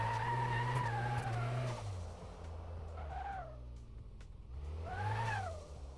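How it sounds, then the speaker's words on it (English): A powerful car's engine in Car Mechanic Simulator 2026 revs hard in repeated bursts, rising and falling in pitch, with a tire-skid edge between the loud pulls. "This car sounds like it has a lot of power."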